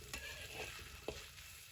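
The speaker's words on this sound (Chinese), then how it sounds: "去用铲子翻炒均匀" Potato slices and pork being stir-fried with a spatula, a quiet steady sizzle with soft scraping and a few light clicks of the spatula against the pan.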